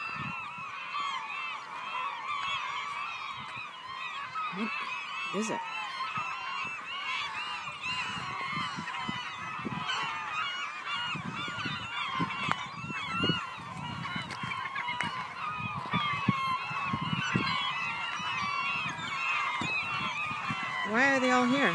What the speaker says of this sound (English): Never seen so many seagulls before.